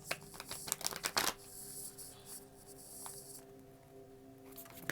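Cards are riffled quickly in a short, crisp burst, followed by a quiet stretch with a faint steady hum.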